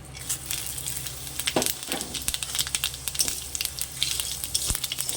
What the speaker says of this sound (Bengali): এবার আমি ওই তেলের মধ্যে দিয়ে দেবো ফোড়ন।